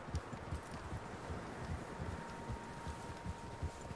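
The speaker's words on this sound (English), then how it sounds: "Horses, quite a few of them." Horses galloping in the video game Red Dead Redemption 2, a steady rhythmic clatter of hoofbeats from several animals under a constant ambient wash, with no talk over it.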